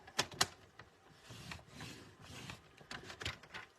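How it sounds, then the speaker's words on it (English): Card stock is scored diagonally with a tool to make a birdhouse-shaped card, heard as faint close scratching strokes and a few sharp taps, quiet and irregular, with no talk. "Line it up like this and score it diagonally between the points"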